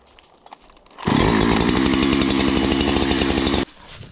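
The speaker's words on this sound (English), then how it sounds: "Start that saw up." A Husky chainsaw roars to life at close range and holds a loud, steady high-revving buzz for about two and a half seconds before cutting off abruptly, with quiet outdoor background before and after.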